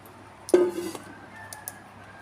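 A farmyard chicken gives a loud squawking cluck followed by softer clucks and a drawn-out crowing call from a rooster, outdoors in a rural field setting with low steady background hum.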